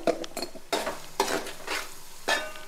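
Spices frying and being stirred in a pan for tamarind fish curry: irregular scraping strokes of a spoon against the pan over a soft sizzle, close and fairly loud.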